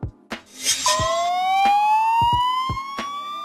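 An ambulance van's siren rises in a long electronic wail over a few sharp knocks and clatter, fairly loud and steady, with no talking.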